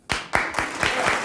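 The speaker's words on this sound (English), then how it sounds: "See, that's just applause." Audience applause at a talk show, a short burst of several distinct claps building quickly, with voices faintly mixed in.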